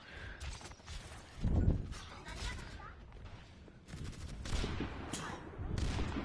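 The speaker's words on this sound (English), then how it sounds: "Shots coming in from both sides as the card continues to go." An Overwatch esports match with a double-sniper lineup crackles with bursts of gunfire, overlapping shots and ability effects from both sides. A caster's voice talks over the fairly quiet, busy mix.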